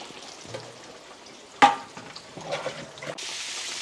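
Pork chops or pork steaks, three at a time, frying in a pan with a steady close sizzle, a sharp sputter midway and brighter hissing toward the end.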